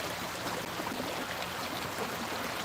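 Steady broadband rush of a stream flowing outdoors under blue sky, a continuous close wash of water with no break or voice over its length.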